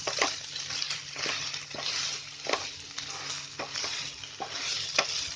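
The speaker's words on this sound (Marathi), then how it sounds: "मिरची मसाला, हळद आणि मीठ हे सगळं एकदमच टाकते आणि परत थोडं हलवते" A spoon stirs chilli masala, turmeric and salt frying in a pan for a cluster bean and red chickpea vegetable dish, with a soft continuous sizzle and irregular scraping strokes close by.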